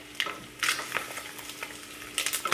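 An egg fries in a pan, giving a close, steady sizzle with occasional louder bursts of spatter and scraping, and no one speaks.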